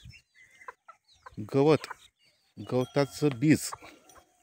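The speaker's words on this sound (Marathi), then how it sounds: "बघा, हे पक्षी, छोटे छोटे पिलं व मोठे पक्षी" Free-range country chickens and small chicks clucking softly in the background while someone talks over them throughout.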